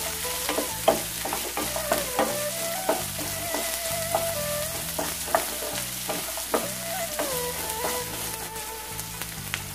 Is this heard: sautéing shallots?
yes